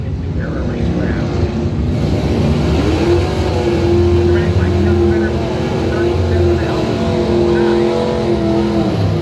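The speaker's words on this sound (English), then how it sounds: "Montague 840 in the 2002 Warrior Drag Bike for David Allen Racing and New Era Racecraft." A 2002 Warrior drag bike roars down the strip in a racing run, a loud sustained engine wail with rising pitch, while an announcer talks over it.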